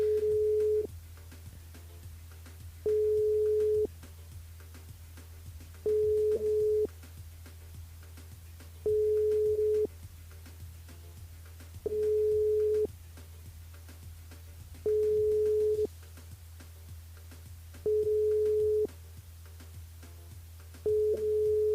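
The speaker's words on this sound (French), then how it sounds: "Ça sonne, mais ça répond pas." A telephone ringback tone on a live radio call repeats with no answer: a steady electronic tone about a second long, sounding at regular intervals roughly every three seconds over a constant low hum.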